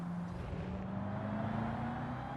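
A Corvette C5 Z06 engine in Gran Turismo 7 drones steadily with a slowly rising pitch during a race, loud and continuous with no talking.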